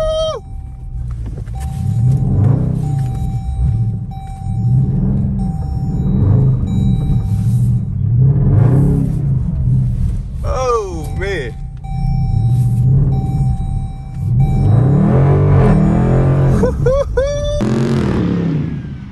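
A 2021 Dodge Durango RT's engine rumbles and revs while it spins donuts in snow, rising to a louder surge near the end, with people talking and shouting inside the car throughout.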